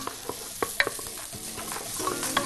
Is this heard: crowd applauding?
no